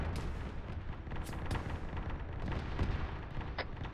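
Gunfire in the military shooter game Arma 3 crackles and booms during a unit operation: a continuous run of shots and heavier distant blasts, rumbling and layered, with no talk over them.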